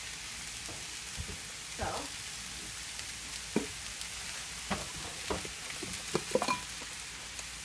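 Peppers and onion for fajitas sizzle steadily in a pan, close and continuous, broken by occasional clacks and scrapes of stirring, with a short spoken word near the end.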